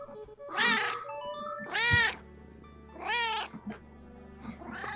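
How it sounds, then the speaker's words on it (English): A pet cat meows three times in long, drawn-out cries, fairly close and moderately loud, with a shorter fourth call starting at the end and quiet room sound between. "The cat that is meowing."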